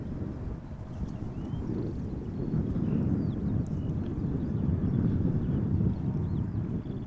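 A KLM Boeing 787-9 Dreamliner on crosswind approach to Amsterdam Schiphol, a low rumbling jet roar that builds and holds, mixed with wind buffeting the microphone.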